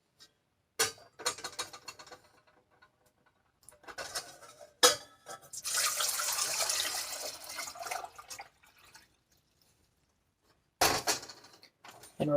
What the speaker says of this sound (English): we have 2 quarts of water that we are going to put